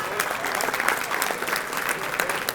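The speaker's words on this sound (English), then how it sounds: "Give Bob a round of applause." A room full of people giving a round of applause at a community breakfast gathering, dense and continuous clapping close by, brief and even.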